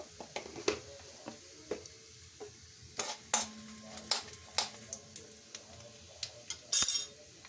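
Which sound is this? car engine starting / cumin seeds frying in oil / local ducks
cumin seeds frying in oil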